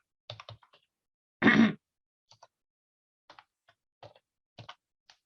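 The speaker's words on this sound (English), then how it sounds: "And now I'll type associate." Short bursts of keys tapped on a computer keyboard, a few quick clicks at a time with pauses between, close and clear in a quiet room, broken once by a brief breathy sound.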